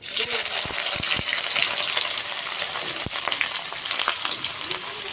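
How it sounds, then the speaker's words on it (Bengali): Onions frying in hot oil with whole cumin, a loud steady broadband sizzle with crackles and a few sharp pops close by, no talking. "এখন এই পেঁয়াজটা ভালো করে ভাজা হওয়া পর্যন্ত অপেক্ষা করব"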